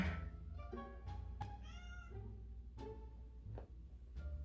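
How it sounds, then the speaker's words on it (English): A pet cat meows repeatedly indoors, a string of short and drawn-out mewing cries with brief pauses between them, close and fairly quiet, with no speech over it. "That's my cat."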